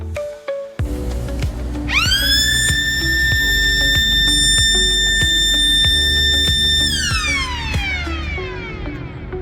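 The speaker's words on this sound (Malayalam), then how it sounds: "കണ്ണും കാതും കൂർപ്പിച്ച് ഞാനിതിൻ്റെ സൈറന് വേണ്ടി വെയിറ്റ് ചെയ്തിരുന്നു" Sheffield's one o'clock time signal siren, in use since 1874, winds up to a loud sustained multi-toned wail, holds steady for several seconds, then slides down, with faint clicks and ticking underneath.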